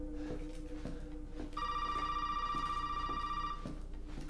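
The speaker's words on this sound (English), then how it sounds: "It's a phone." A telephone ringing in the video game Resident Evil 7, one sustained electronic ring lasting about two seconds, set over quiet rhythmic thumps in the background.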